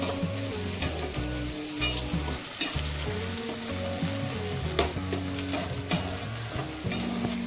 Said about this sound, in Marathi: आता फिरवून देऊन घेते या कांद्याला